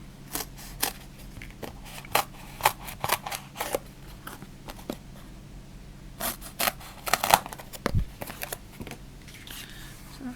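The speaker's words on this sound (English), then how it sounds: "Just cut a piece to size." Scissors cutting a foam sheet to size at a card-making table, a series of close, crisp snips in uneven bursts with quiet handling noise between them.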